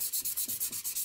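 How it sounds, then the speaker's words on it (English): Rhythmic back-and-forth sanding strokes on a 1/24 scale model car body, about eight quick even passes of abrasive rubbing, close and steady with no talk. "No particular style in sanding, just sand it."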